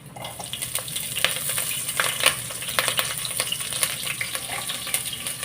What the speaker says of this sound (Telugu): సో ఇది కొంచెం వేడైన తర్వాత ఇందులో గ్రీన్ మిర్చి వేయాలి